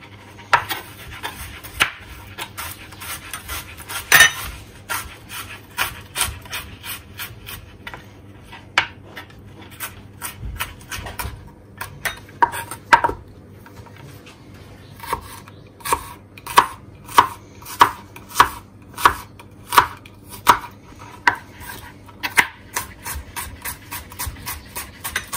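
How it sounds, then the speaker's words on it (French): A knife finely chops a small fresh onion on a cutting board, sharp close taps arriving in uneven bursts then a fast regular run of strikes, with quiet kitchen background between. "là c'est un petit oignon frais. On va juste le ciseler."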